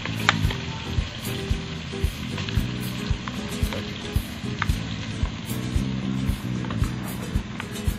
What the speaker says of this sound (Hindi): अब इसको मिक्स कर लेते हैं